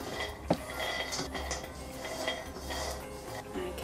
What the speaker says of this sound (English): just keep stirring them in the pan until they start to become fragrant